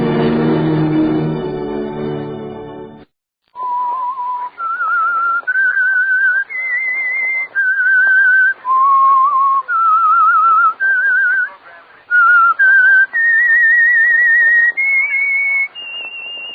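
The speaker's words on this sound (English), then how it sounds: "that whistle is your signal for the signal oil program, The Whistler" A lone whistler performs the theme of the radio mystery program The Whistler: a slow, clear melody of sustained, slightly wavering notes with short pauses between phrases. A brief, rich tonal sound comes before the whistling begins.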